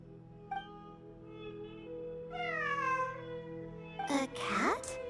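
A domestic cat meows in a long, drawn-out rising and falling call, followed by a sharper second meow, heard over a steady background drone with no speech.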